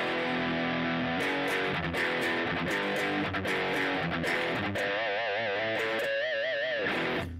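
An electric guitar plays through a Pirate King Mr Crazy distortion pedal, its crunchy, gritty chords and single notes ringing out continuously with bent, wavering notes near the end, fairly loud and alone.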